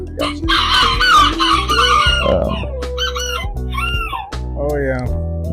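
A blue cockerel crows repeatedly on a farm in eastern Kentucky, loud and close, its drawn-out calls and clucks overlapping with people talking nearby.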